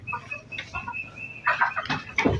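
Chickens cluck in a short series of close, uneven calls, fairly quiet, heard alone over faint background noise in a rural Thai setting.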